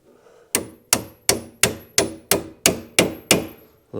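A hammer strikes a Polaris Ranger 800 axle nine times in a steady, evenly spaced rhythm, each blow a sharp, loud metallic crack that decays quickly, close up with no talking.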